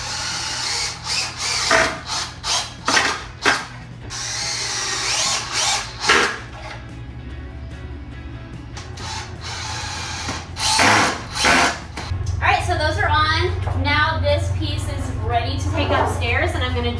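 Power drill driving 2.5 inch pocket hole screws into the bottom of a 2x10 board for a DIY loft bed, several short whirring bursts up close, with a person talking through the later part.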